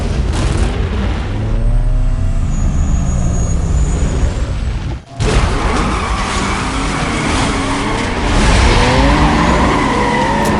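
A race car in Need for Speed Most Wanted (2005) launching with engine roar and tire skid, loud and close, with a brief cut midway before the revving resumes; no speech.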